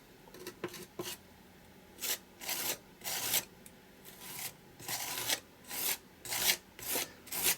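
A tool scraped repeatedly across a mixed media art journal page, giving a dozen or so short, dry rasping strokes in an uneven rhythm, close and fairly quiet with brief pauses between passes.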